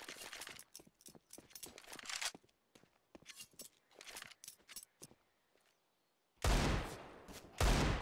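Sharp gunshots ring out in a Counter-Strike match on the Inferno map, with Desert Eagle fire among the bursts; the shots come in quick clusters with short gaps, then a loud dense barrage closes the sequence.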